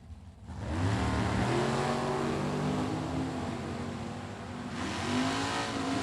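A 442 Oldsmobile drag car roars off the line at a drag strip, its loud engine climbing in pitch and holding a sustained, rising howl that dips briefly and then surges again near the end.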